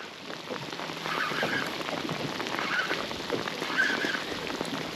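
Heavy rain pours down steadily during a fishing trip on Lake Macquarie, a dense, unbroken hiss that stays loud and close for the whole stretch, with no talking.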